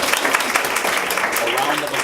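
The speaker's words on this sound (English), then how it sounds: "And a round of applause to the organizers." An audience at an afternoon health literacy talk gives the organizers a round of applause: a dense wash of many hands clapping, steady and fairly loud, while a speaker's voice carries over it.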